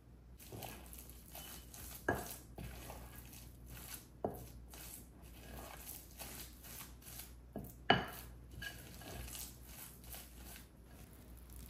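Black bean burger mixture is stirred in a bowl, with a utensil making soft, irregular thuds and scrapes and a few sharper knocks against the bowl, all faint over a low steady background hum.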